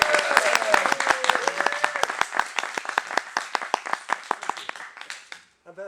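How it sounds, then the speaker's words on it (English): A small audience applauds with distinct individual hand claps, steady at first and then thinning out, while voices speak briefly over the noise. "Do you want us to clap?"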